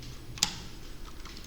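A single key press with Shift held on a computer keyboard, one short crisp click, near and fairly faint against quiet room noise.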